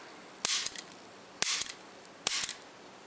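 A Russian Makarov pistol is dry fired in double action: three sharp, close mechanical snaps about a second apart, each followed by small trailing clicks, against a quiet background.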